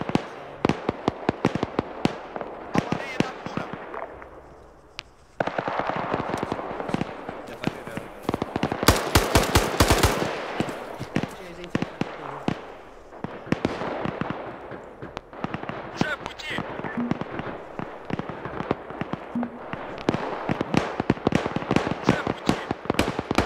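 Bursts of automatic cannon and gunfire from a BMP in a military video game, rapid sharp cracks in dense volleys with a loud sustained burst midway, steady and close throughout.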